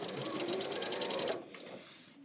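A sewing machine fitted with a walking foot stitches binding onto a quilt, a fast, even mechanical whir running close and steady, then abruptly stopping and leaving quiet room sounds.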